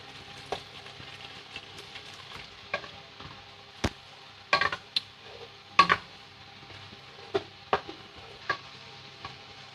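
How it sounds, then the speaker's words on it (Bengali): Potatoes are stirred into spice masala in a pan for aloo dum, producing scattered sharp taps and scrapes of a spoon against the pan over a faint, quiet sizzle, irregular and close, with no talk. "এবার ভালোভাবে মশলার সাথে আলুগুলো মিশিয়ে নিতে হবে।"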